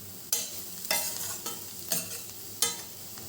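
Carrot fry with chili powder is stirred in a pan on the stove, a spoon scraping in about five regular strokes over a soft continuous sizzle, close and fairly quiet.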